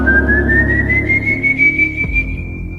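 A single eerie, drawn-out whistle of the Silbón legend spirit rises slowly in pitch and holds, loud and close over a low rumbling backdrop, with a brief thud near the end.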